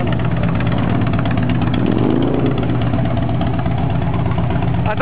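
Custom fiberglass motorcycle with an 1800 engine idles close by, a steady throbbing rumble with a slight knocking pulse that stays even throughout and has no clear talk over it.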